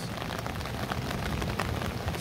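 Heavy rain falls in Intramuros, Manila, a dense steady hiss of drops hitting surfaces with scattered louder splashes, close and continuous, with no voices.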